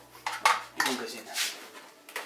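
Rifle magazines are handled and packed into a bag, giving a few sharp metallic clacks and rustling knocks, close and separate, spread across a couple of seconds.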